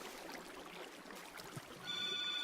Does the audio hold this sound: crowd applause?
no